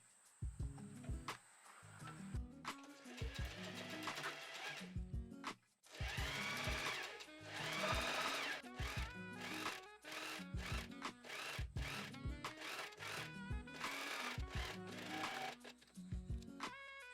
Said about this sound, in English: we're gonna fold again the overlocked seam up and sew along it